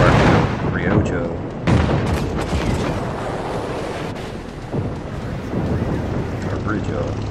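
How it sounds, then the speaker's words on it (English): Anti-aircraft fire crackles in a naval video game battle, a dense, steady barrage of rapid gunfire bursts layered over a rushing, surf-like wash of sea and wind noise throughout. "Anti-aircraft fire is trying to put some damage on me."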